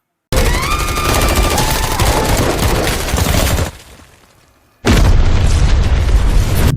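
A bomb detonates in a war film scene. A loud, sustained roaring blast mixed with rapid crackling gunfire fades briefly, then a second powerful burst erupts.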